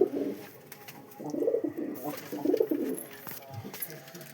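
A pet pigeon coos nearby in soft, throaty bursts, three or four rounds repeating at a relaxed pace against a quiet background.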